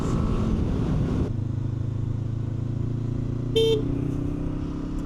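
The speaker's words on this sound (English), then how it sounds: "hit the horn accidentally instead of my blinker" Honda CB500F motorcycle horn gives a short, bright honk partway through, loud and close over a steady engine drone while riding.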